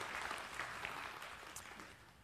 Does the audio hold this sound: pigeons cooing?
no